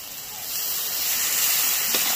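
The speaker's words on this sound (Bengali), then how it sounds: "হালকা একটু জল দেব।" Water is poured into a hot pan of spiced duck egg and new potato curry, setting off a loud, rising hiss of steam and sizzle that swells and holds steady, with no talk.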